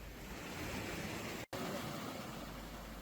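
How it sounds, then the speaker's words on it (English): Steady rushing water fills the scene, a broad continuous wash like a stream pouring over rocks, close and constant with a brief dropout midway. "the sound of the stream grows stronger"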